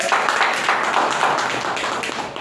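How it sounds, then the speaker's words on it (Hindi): Loud, sustained applause from an audience for Suresh sir at a DXN company gathering, dense steady clapping filling the whole stretch with no talk over it. "सुरेश सर के लिए एक जोरदार ताली।"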